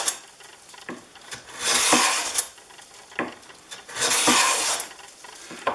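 A hand plane shaves across walnut end grain in two long rasping strokes, each a bright hissing scrape that swells and fades, with faint taps and handling noise between strokes and no talk.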